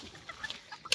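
Brief, soft clucks from chickens, a few quick calls in a short burst at moderate distance.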